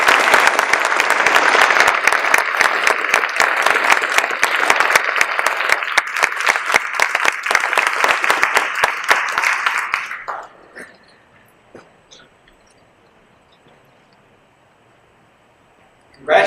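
An audience at a Scouting awards ceremony gives Silver Beaver Award recipients a long, dense round of clapping that fades out abruptly after about ten seconds into near silence.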